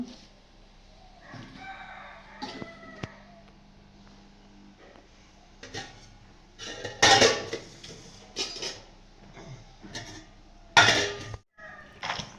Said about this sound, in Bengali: আমি হাড়ির থেকে ভাত ঢেলে নিচ্ছি একটি বড় পাত্রে